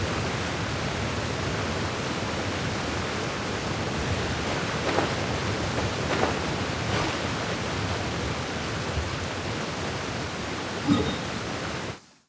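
Steady rain pours in the game Genshin Impact, a dense even hiss filling the whole scene with a few faint louder rumbles and spatters near the end, no voices over it.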